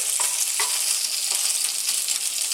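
Bacon crisping in a frying pan gives a steady, dense, close sizzle with a few soft stirring scrapes and pops along the way. No one talks.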